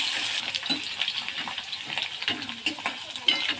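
Chopped potatoes frying in a pan of oil tempered with black cumin seeds, giving a moderate crackling sizzle with irregular pops and stirring scrapes throughout.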